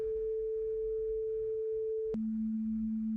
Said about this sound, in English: If I change this to sine, Takes a few seconds and you hear the sine wave.